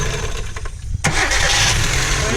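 A car engine fitted with an LPG gas installation cranks briefly, catches and then settles straight into a loud, steady, even idle close by.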